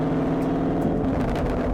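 A 2019 Camaro SS 1LE rumbles at a low, steady pitch, its exhaust burbling with soft irregular pops and crackles throughout.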